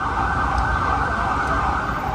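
An ambulance siren wails steadily from a vehicle stuck in Times Square traffic, loud and continuous with a busy city street rumble underneath.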